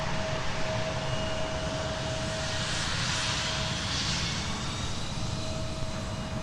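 Sun Country jet aircraft taking off from runway 17 at Minneapolis–St. Paul airport, a steady broadband roar of jet engines held at constant loudness from moderately far away, with a faint steady tone running beneath it.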